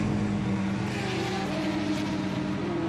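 A GT race car at the Sebring SpeedTour endurance race pulls into the pit lane, its engine a steady, loud, close drone with a slight rise in pitch under broad track noise, no voices heard.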